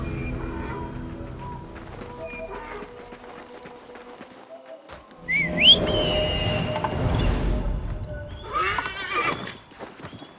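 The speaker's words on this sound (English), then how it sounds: "I prepared the horses." Horses in the video game Assassin's Creed Mirage, heard as steady clip-clopping hooves with a loud neigh midway and another whinny near the end, plus faint whistling.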